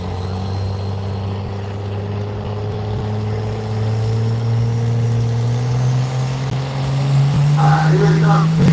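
A diesel truck engine revs hard during a truck pull in Dorchester, Wisconsin. It is a loud, steady drone that slowly climbs in pitch, and a brief higher sound cuts in near the end.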